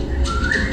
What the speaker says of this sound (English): And then you hear whistling there as well.